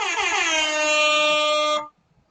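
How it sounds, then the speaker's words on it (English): A loud, sustained air horn blast holds steady for nearly two seconds, then cuts off abruptly into near silence. "So that's my little air horn sound"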